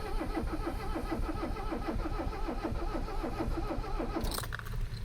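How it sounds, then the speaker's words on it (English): An old Mercedes 300CD diesel engine cranks slowly on a low battery, producing a steady, labored, rhythmic chugging that continues throughout. Near the end a brief metallic jingle like keys cuts in. "Not really spinning it over very fast"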